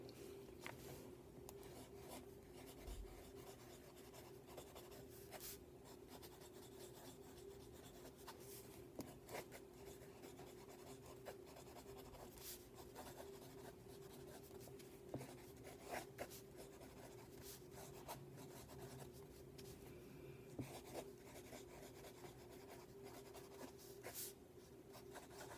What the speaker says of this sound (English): We're going to take a look at a writing sample of the Waterman Kultur fountain pen in the fine nib.